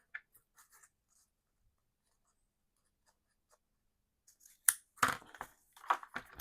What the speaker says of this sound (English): Let me cut one more just to be sure.